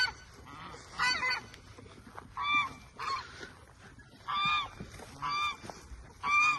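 Several geese honk in repeated bursts on a homestead, loud and close, with short pauses between calls.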